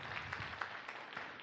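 An audience at a Kumamoto City arts festival stage performance claps after the act, a dense, even patter of many hands, heard faint and distant throughout.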